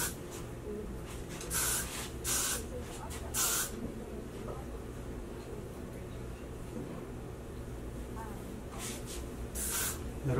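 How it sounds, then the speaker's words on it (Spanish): Hairspray sprayed onto hair while styling beachy waves, heard as a few short hissing bursts in repeated pairs spread through the clip, with quiet background noise between them. "Little hairspray."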